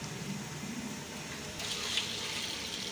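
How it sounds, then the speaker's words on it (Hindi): Water is poured into a large pot holding 12 kilos of rice for a wedding-hall style chicken biryani, a steady close gush of filling liquid that grows a little louder partway through, with no voices. "अभी हम पानी डालने लगे हैं। ये 12 किलो चावल और 12 किलो पानी लगाएंगे।"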